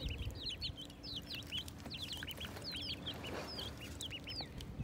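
Young chicks bought from a farm supply store chirp and peep repeatedly in a busy, overlapping chorus, fairly close, over a steady low background hum.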